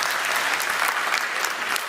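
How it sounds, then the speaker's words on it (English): Debate-hall audience clapping, a dense, even burst of many hands sustained at moderate loudness for the whole short stretch, with no voice over it. "You hear people clapping?"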